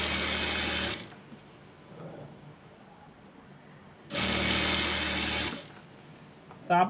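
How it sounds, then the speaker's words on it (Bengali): A sewing machine stitches elastic into a salwar in two loud, close bursts of rapid whirring, each about a second long, separated by quiet handling of the fabric. "মেশিনের গাইটি দিয়ে দিলাম, দিয়ে এভাবে ঘুরিয়ে ঘুরিয়ে সেলাইটা দিতে হবে"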